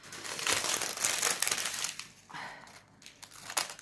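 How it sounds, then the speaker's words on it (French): A sturdy plastic sachet crinkles and rustles steadily while scissors cut it open, with the crackling dense at first and easing off partway through, close up and with no talk. "Je prépare l'ouverture d'un sachet"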